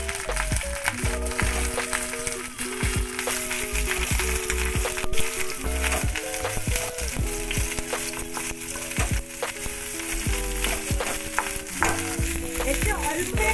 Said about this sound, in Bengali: আদার হিং বাটাটা ভাজা হয়ে গেছে, এর মধ্যে আমি ভাপানো ফুলকপি দিয়ে দিলাম।